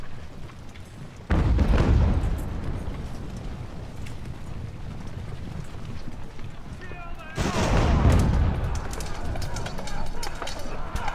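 Cannon fire from a naval battle in the video game Ultimate Admiral: Age of Sail: two heavy booming blasts several seconds apart, each trailing off into a rumbling wash, with a low background din between them.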